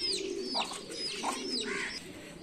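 Domestic pigeons bathing in their drinking water coo repeatedly at close range, with a few higher chirps mixed in and no voices over them.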